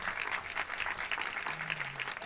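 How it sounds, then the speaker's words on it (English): Audience applause for a panel at a discussion event, steady clapping from a crowd heard at a modest distance and fairly quiet, continuing throughout without a break. "Let's have a very big applause for the panel"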